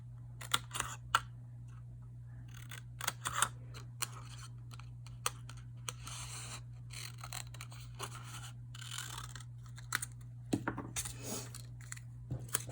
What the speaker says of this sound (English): And trim out the pattern paper.